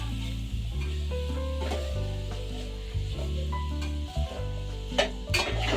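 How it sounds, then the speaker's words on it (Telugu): Grated carrot frying in ghee in a steel pot, a steady sizzle with scraping stirs, overlaid by a sustained low tonal hum; no talking. "మంచిగా వేయించుకుందామండి"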